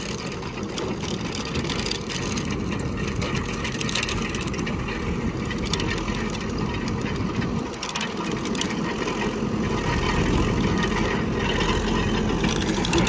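A tractor engine runs steadily with a KVB trenching machine attached, a loud, continuous rough drone that holds throughout with a brief dip partway.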